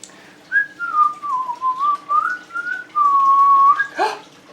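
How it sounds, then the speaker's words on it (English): A person whistles a wandering, sliding tune alone for several seconds in a quiet room, with short phrases separated by small pauses and a sharper breathy note at the end. "Did I just whistle?"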